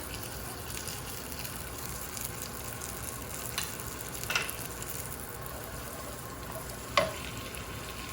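Cumin seeds and asafoetida frying in hot oil for a chicken changezi give a soft, continuous sizzle with a few faint clinks of a utensil against the pan, quiet and steady with no talking.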